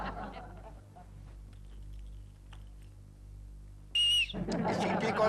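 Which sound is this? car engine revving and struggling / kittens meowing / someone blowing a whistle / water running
someone blowing a whistle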